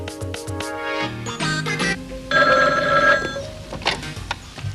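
An old telephone bell rings in a home scene from a vintage Pakistani TV drama, sounding in repeated bursts of bright, insistent trills with short gaps, close and fairly loud with no speech.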